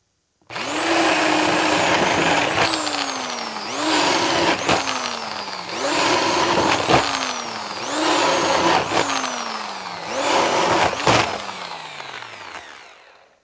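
A high-RPM corded drill bores a series of holes, whining loudly and steadily up close, with five distinct spin-downs and restarts as each hole is finished, then winds down to silence.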